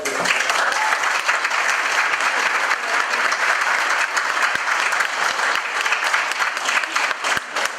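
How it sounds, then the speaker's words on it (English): A crowd at a Southend choir celebration applauds steadily, dense sustained clapping filling the room at a loud, even level throughout. "So a round of applause."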